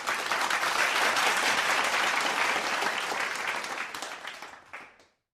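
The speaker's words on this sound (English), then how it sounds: "Let's welcome him with a virtual round of applause." A round of applause from a gathered audience at a morning devotion service, dense steady clapping for about four seconds before thinning out and stopping abruptly.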